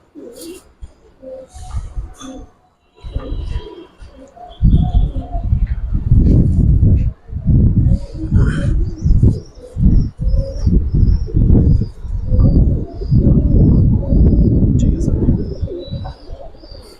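Giribaj pigeons in a loft coo in low, repeated throaty bursts with occasional wing flaps and chirps, close and loud, while someone talks intermittently over them.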